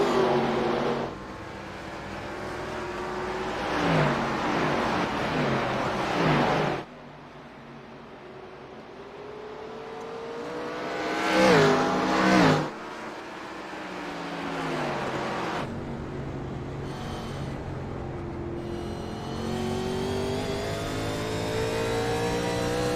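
Race cars on a long green-flag run at Nashville Fairgrounds, engines roaring past at speed with rising and falling pitch as cars pass close, then fading and returning in several loud sweeps.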